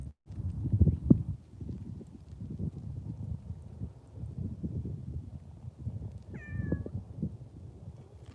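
A cat meows once, briefly and somewhat faintly, in a desert setting, heard over low rustling, shuffling and footfall-like thumps nearby.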